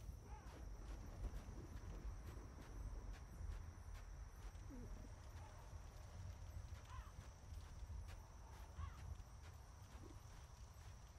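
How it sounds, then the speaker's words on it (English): Hooves clop in a steady walking rhythm, with a faint whinny and some distant bird calls over a constant low rumble, heard alone in a Dark Souls game. "I hear footsteps and I know that those are not my own footsteps."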